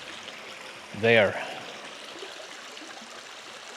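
A stream flows through a mossy ravine as a steady broadband wash of water, with a short spoken word near the start.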